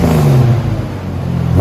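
A 2000 Jeep Cherokee 4.0L engine revs through a Banks Monster exhaust, a loud, deep rising-and-falling growl up close that dips and then climbs again.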